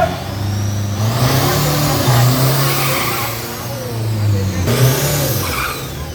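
A Nissan Navara pickup with a stock YD25 diesel and F5 turbo revs at a drag strip, the engine note rising in loud, sustained pulls with a brief dip before another surge.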